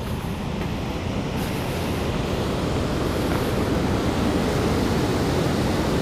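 Water rushes steadily over a dam spillway at night, a continuous broad roar heard close and unchanging, with no talk.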